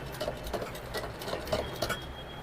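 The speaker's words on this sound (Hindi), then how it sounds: "ये देखिए जड़ पे सिलाई चल रही है इनका।" Sewing machine running slowly along the root seam of lehenga fabric, giving a soft, fairly quiet, steady stitching patter with faint ticking throughout.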